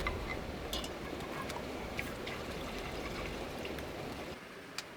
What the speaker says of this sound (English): I'm just going to rinse off that water now and put fresh water in.